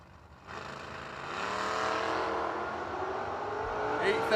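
Drag race between a Pontiac Grand Prix and a Ford Mustang, engines swelling from quiet into a sustained roar as the cars launch and pull away, heard at a distance under an announcer's voice.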